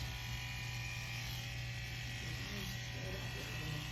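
An electric hair clipper buzzes steadily and close during a zero blend haircut, a constant low hum with a bright electrical whine, faint and unbroken for several seconds while someone talks over it.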